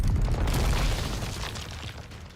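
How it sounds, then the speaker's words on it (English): A distant explosion in the GODDESS OF VICTORY: NIKKE video game, a broad low rumbling boom that swells early and slowly fades over a couple of seconds with no talk. "An explosion rings out in the distance, and the gunshots stop."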